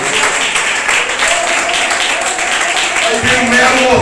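An evangelical church congregation claps during a sermon, steady crowd clapping throughout with a voice talking over it and a louder swell near the end.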